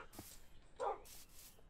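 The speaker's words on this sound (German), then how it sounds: "Hundis." A dog in the video game Minecraft gives a couple of short, quiet barks and yips, set apart by gaps in otherwise faint background sound.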